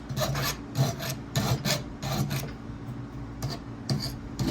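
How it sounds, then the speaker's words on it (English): Hand filing to deburr the edge of a fuel pump fitting during an LS swap fuel pump upgrade, a run of evenly spaced rasping strokes, close and fairly loud, with no talk. "It's just to take the little burr that's right here on the edge."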